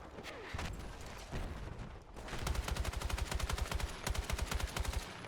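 Gunfire in the shooter game Battlefield 6 during an urban Conquest match, scattered shots at first and then a rapid, steady automatic burst that drives on for about three seconds, loud and close.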